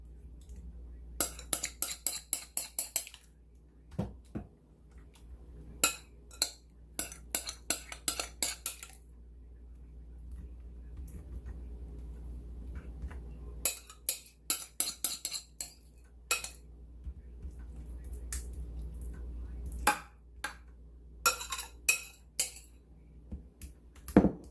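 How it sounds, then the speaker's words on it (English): A metal spoon clinks and scrapes against a casserole dish in quick clusters of taps while beef enchilada filling is spooned over the top, close and fairly quiet, with pauses between bursts of clatter. "Now I'm just going to go ahead and put the remaining, the rest of this on top here. I'm just going to spoon it on there."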